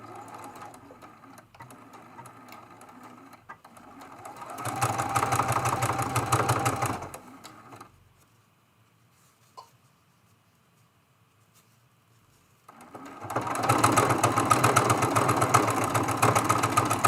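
A sewing machine stitches quilt rows together with a back stitch, in two loud bursts of rapid whirring separated by a few quiet seconds.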